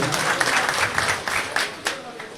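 An audience at a political party's headquarters inauguration ceremony in Luanda applauds a regional coordinator, with a short run of clapping and a few sharper claps standing out near the end.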